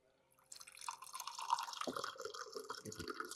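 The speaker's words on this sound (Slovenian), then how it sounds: "Dodam nekaj vode." Water pours and trickles into a blender jar holding chopped carrot and whole banana for a smoothie, starting after a quiet moment and continuing as a steady splashing gurgle, close and fairly soft.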